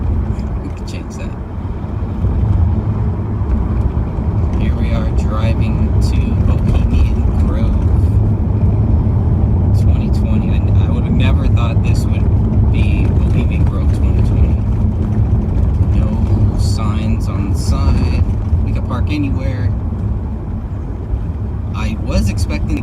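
A car drives steadily along a road, its engine and tire rumble holding loud and continuous from inside the vehicle, with occasional faint clicks and some talking over it.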